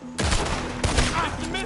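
Gunfire in the Western action game Red Dead Redemption 2, two loud close bursts of shots a little over half a second apart, with a voice briefly shouting among them.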